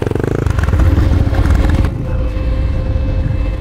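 Regulmoto T-Leopard 300 motorcycle launching from a standstill on asphalt, its engine revving loudly with a dense rumbling roar that drops to a steadier drone partway through.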